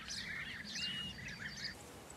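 Birds such as yellowhammers chirp and call among trees, a faint, steady flutter of overlapping tweets and short whistled notes over a low background hum, with no voices.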